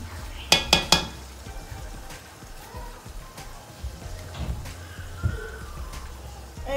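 Onions in a little oil in a saucepan give a soft, steady sizzle, opened by three quick clinks of a utensil against the pan and later a few scattered scrapes and taps.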